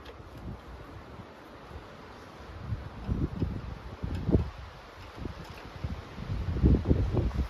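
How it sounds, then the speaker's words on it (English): Gusty wind buffeting the microphone, with low rumbling bursts that swell and fade, strongest near the end, and faint rustling underneath. "Pretty windy today."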